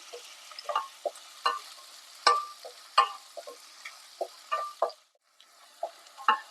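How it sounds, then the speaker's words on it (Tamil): Onions sauté in sesame oil for a chicken fry, with a quiet sizzle under a string of sharp, irregular scrapes and taps from stirring and a brief lull near the end. "இது நல்லா கோல்டன் ப்ரௌன் கலர் ஆகிற வரைக்கும் எண்ணெயில நல்லா வதக்கிக்கலாம்"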